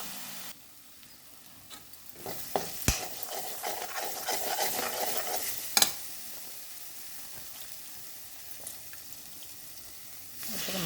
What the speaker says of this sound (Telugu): ఆయిల్లో మసాలా మిశ్రమం అంతా వేయించుకోవాలి పచ్చివాసన పోయేంత వరకు